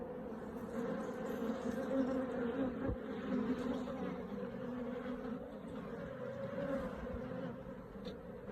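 Honey bees of a queened colony hum steadily at an apiary, a dense continuous drone close by with no voices over it.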